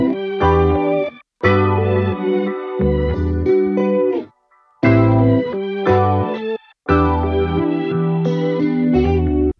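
Guitar melody doubled an octave higher by an Arturia Mellotron plugin and run through Eventide Crush Station distortion, playing loud chorused phrases that stop and restart in short bursts with brief silences between.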